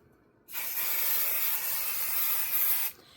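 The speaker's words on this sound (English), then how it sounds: "right now I'm spraying on the back and not the fabric for the front" A single continuous aerosol spray hisses onto the back of a piece of fabric, close and steady for about two and a half seconds with an abrupt start and stop.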